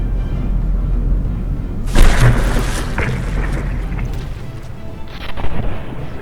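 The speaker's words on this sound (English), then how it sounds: "The Shark Fin here seems to be firing a mix of HE and armor penetrating penetration depth fuses" Battleship guns fire in From The Depths, a sudden heavy boom that rolls into a long rumbling decay, followed by a second fainter blast near the end.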